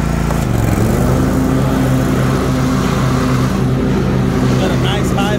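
A 50-inch Toro TimeCutter SS 5000 zero-turn riding mower runs with its blades engaged, a loud, close, steady engine drone with a low hum underneath.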